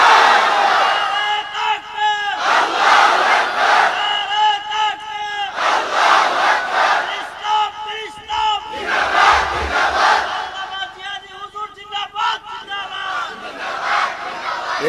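A large crowd at a Bengali waz religious gathering roars Allahu Akbar back to a takbir call, sounding as loud, massed chanting that swells in repeated surges one after another.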